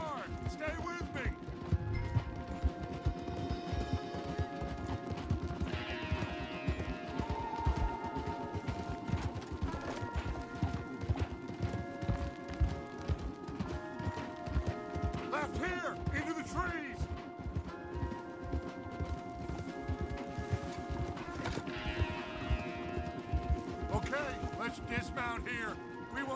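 Horses gallop in the Red Dead Redemption 2 video game, with steady rapid hoofbeats running under a continuous music score and occasional game sounds throughout.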